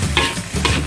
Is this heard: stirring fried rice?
yes